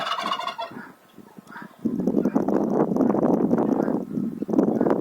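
A turkey gobbles loudly nearby in a long, rattling call, preceded by softer clucking and rustling.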